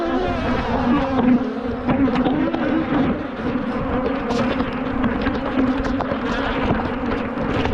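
Angry honey bees swarm around an open hive, a dense, continuous loud buzzing drone that wavers in pitch, close to the microphone with a little wind noise.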